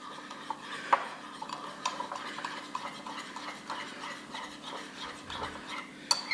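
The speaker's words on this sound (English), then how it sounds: "So I'm just stirring to get most of the lumps out." Melted jam being stirred in a pot, a spoon scraping and tapping against the metal in a soft, uneven rhythm, close and fairly quiet, with a few sharper clinks.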